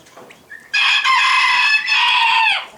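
Rooster crowing loudly and close inside a chicken coop, one long sustained cock-a-doodle-doo lasting about two seconds, preceded by soft clucks from the hens.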